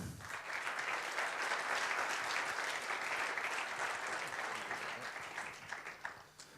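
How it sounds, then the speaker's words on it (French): Sustained applause from a chess event audience for the commentators, dense and steady clapping that fades slightly toward the end, with no one speaking over it. "C'est ceux de nos commentateurs vedettes que je vous demande d'applaudir."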